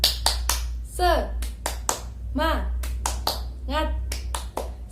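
A primary class of children claps a rhythmic spirit-clap routine in sharp, evenly spaced bursts of hand claps, mixed with chanted voices between the claps over a low steady hum.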